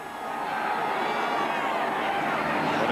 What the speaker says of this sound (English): Contrasting crowd noise